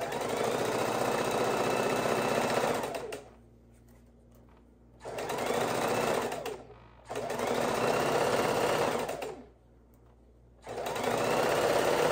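A sewing machine runs in three steady bursts of rapid mechanical stitching, separated by short quiet pauses, close and fairly loud.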